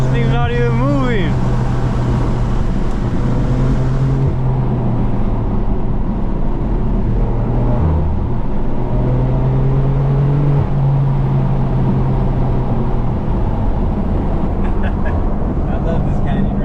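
A BMW M4 F82 fitted with an AWE exhaust drones steadily at close range inside the cabin on a canyon run, with a deep sustained engine tone that dips and swells briefly, while people talk over it.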